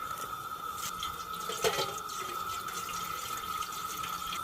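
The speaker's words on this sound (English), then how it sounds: "We better get some water in there first" Water pouring steadily into a cooking pot at an outdoor campsite while preparing jambalaya, a continuous moderate rush with a brief splashy bump midway and no talk.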